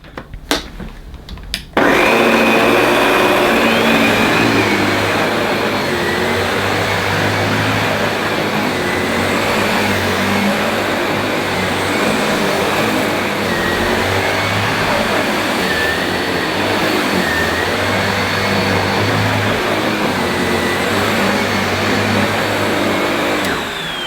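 A Miele Boost CX1 Cat & Dog vacuum cleaner switches on after a few seconds of quiet handling clicks, then runs loud and close with a steady high-pitched motor whine and airflow roar throughout.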